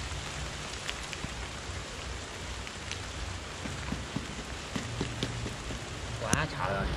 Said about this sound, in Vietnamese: Chạy mưa tới rồi anh em ơi.